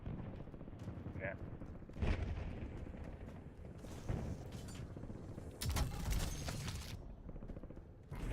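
LMG and SMG gunfire in Call of Duty Warzone: loud, broadband bursts around two, four and six seconds over a constant dense game background.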